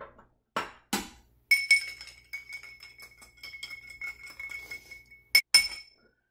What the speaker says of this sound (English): I like this little short spoon because I can stir real fast, get it cold.